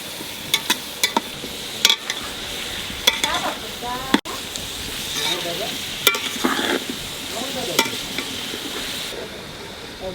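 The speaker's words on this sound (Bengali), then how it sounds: "পেঁয়াজটা একটু ভেজে নিয়ে বাটবো" Onion sizzles and crackles steadily in an oily pan while being cooked for a mutton curry, with repeated sharp scraping and stirring knocks over the continuous fry hiss, close and fairly loud, no talk.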